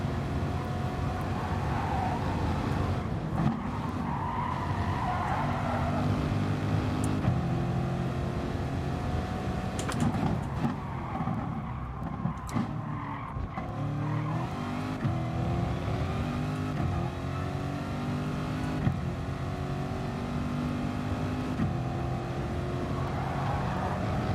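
A McLaren race car engine and rival cars in the video game GT Sport roar steadily, with revving and shifting pitch as they accelerate along the track, all close and continuous.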